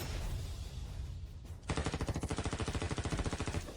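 A rapid burst of machine-gun fire rattles out in fast, evenly spaced shots for about two seconds, loud and close, after a stretch of rumbling noise, as an order to shoot is carried out in a dramatic scene.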